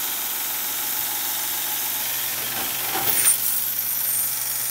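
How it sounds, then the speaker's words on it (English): A Crest Ultrasonics ultrasonic gun cleaning machine runs with a steady, close, even hum and a faint high whine, with slight rattling swells near the end as a bolt carrier group soaks in the bath. "I'll go ahead and turn this on"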